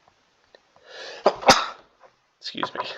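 A single loud sneeze bursts out near the middle, with soft breaths before it and a brief murmur of voices afterward.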